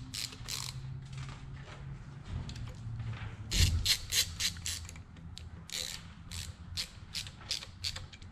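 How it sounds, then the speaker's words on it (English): A ratchet tightens the timing cover bolts on a 289 Ford engine, with quick rhythmic clicking pulls close by, repeated in steady bursts with brief pauses. "I'm not gonna fully tighten one bolt and then go fully tighten the other bolt."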